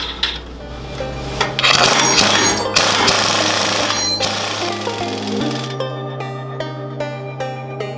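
Axle nut and collar being tightened on a Yerf Dog Spiderbox go-kart's 54-inch axle with a power tool, giving loud, sustained, rattling hammer-like bursts with metallic clanks, then a quieter stretch of ringing metal taps near the end.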